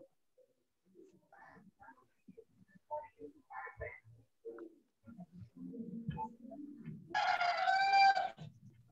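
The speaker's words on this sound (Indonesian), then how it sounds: "ternyata suara ayam" A rooster crows once, loud and drawn out, after scattered faint clucks and other bird sounds over a quiet background.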